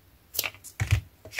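Two or three brief, dry snips or scrapes of a blade cutting material to size, close and fairly quiet, spaced over about a second and a half.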